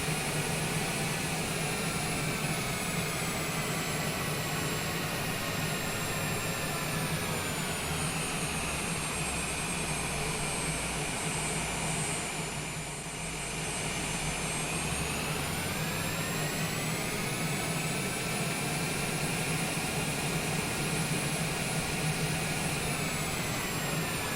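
Twin jet engines of a Cessna Citation taxiing in Microsoft Flight Simulator 2020 give a loud, steady whine and roar that holds constant, dipping briefly about midway, with no talk.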